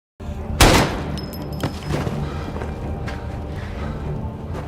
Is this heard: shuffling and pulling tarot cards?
no